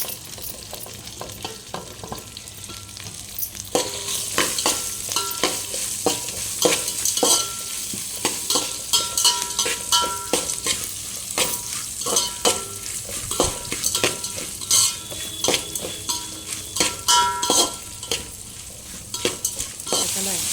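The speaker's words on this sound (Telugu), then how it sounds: "పచ్చిమిర్చి ఉల్లిపాయలు వేసుకొని ఫ్రై చేసుకోవాలి" Green chillies and onions fry in a pan with lentils for spinach rice, a steady sizzle broken by repeated scraping stirs of a utensil against the metal, close and continuous with no talking.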